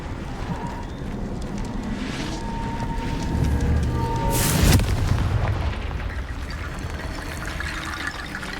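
A Confringo blast spell explodes in Hogwarts Legacy, a loud booming burst that swells near the middle over a dense rumbling game soundscape, then fades back into the steady background.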